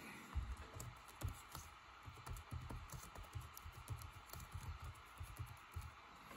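A computer keyboard is typed on in short, quiet bursts of soft clicking keystrokes, close and faint, with brief pauses between runs.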